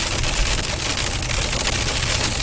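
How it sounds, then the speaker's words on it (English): Loud hailstones batter a vehicle nonstop during a storm chase in March 2025, a thick rattling barrage of sharp hits with no letup and no talking. "Look at this hail!"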